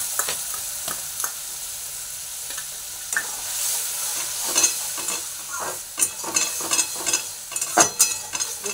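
Turmeric and chili powder paste hits a hot pan of oil for a Bengali prawn curry, sizzling steadily while a spoon stirs and scrapes in irregular bursts that grow busier toward the end.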